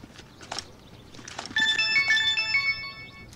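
A mobile phone's ringtone starts partway through, a loud, bright electronic melody of repeating tones. Before it, indoors, come soft scattered footsteps or knocks.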